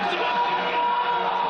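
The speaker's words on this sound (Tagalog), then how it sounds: "Malakas na hiyawan ang sinalubong ng fans ni Ja Morant ng Memphis Grizzlies sa kanyang unang pagbisita sa Pilipinas." Filipino basketball fans shout and cheer loudly for Memphis Grizzlies star Ja Morant on his first visit to the Philippines. The yelling is a continuous, close, intense burst with no pauses.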